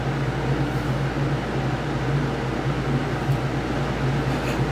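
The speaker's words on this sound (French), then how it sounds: "Rana, c'est le bruit d'un ventilo. La clim" An air conditioner fan runs steadily with a constant low hum and tonal drone, an unbroken mechanical whir at moderate level with no speech.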